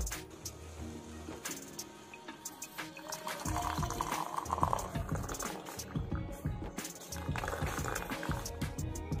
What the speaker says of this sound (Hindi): यहाँ मैं बना रही हूँ शाम की चाय।